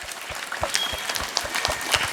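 Applause from a school assembly audience at an Independence Day celebration, following a short student program. Scattered clapping runs steadily through the clip, moderately loud with no voices over it.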